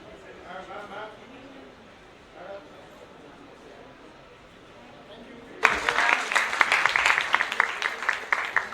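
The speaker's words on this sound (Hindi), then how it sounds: "जोरदार तालियां फॉर प्रकाश भाई" An audience at an awards ceremony breaks into loud, dense applause partway through, following a stretch of quieter talking over a PA.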